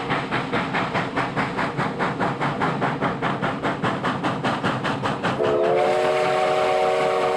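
Steam train chugs with a rapid rhythmic puffing, loud and close, and near the end a steady whistle blows over the running engine.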